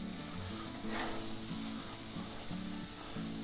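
Green chili cheeseburger patties sizzling on a Weber Spirit gas grill outdoors, a continuous close hiss with intermittent low humming tones in the background.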